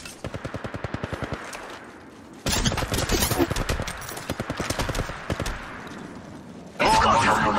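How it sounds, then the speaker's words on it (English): Apex Legends Mobile firefight with rapid rhythmic automatic bursts from a weapon, then a dense stretch of heavy overlapping fire and a loud final burst, all close and prominent. "I am taking fire"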